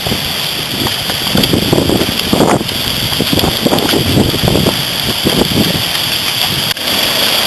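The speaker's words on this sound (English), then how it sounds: "it is hailing, and that hurts." Hail and gusting wind during a Chesapeake Bay thunderstorm: a dense, rough roar with irregular, buffeting surges and pelting ice, loud and close for several seconds.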